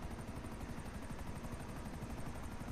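A helicopter in Grand Theft Auto V thrums steadily, its fast rotor chop pulsing evenly and loud throughout with no pause or talk.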